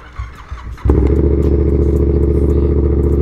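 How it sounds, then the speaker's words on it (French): Motorcycle engine starts after a few clicks and clunks, catching abruptly and settling into a loud, steady, close-up idle with a rapid regular firing pulse. "Hop, vous pouvez même démarrer la moto."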